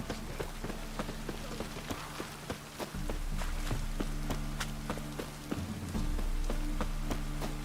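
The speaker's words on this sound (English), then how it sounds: "Rain again." Rain falling in The Witcher 3, a steady patter on surfaces mixed with repeated sharp footstep-like taps and a low game hum that shifts in level.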